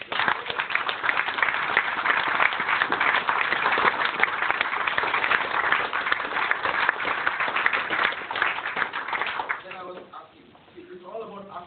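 An audience breaks into a long round of applause, thick and continuous for most of the stretch, then dies away as a voice starts speaking at the end.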